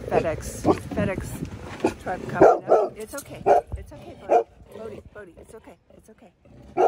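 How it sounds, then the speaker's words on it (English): A dog barks outside as a delivery truck pulls up, loud repeated barks in bursts, while a person talks over them in a soothing voice. "That's my dog barking outside."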